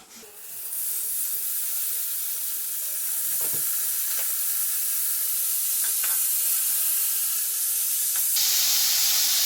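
Butter sizzles in a hot pan for French toast, a loud and steady hiss that holds throughout, with a few faint clicks.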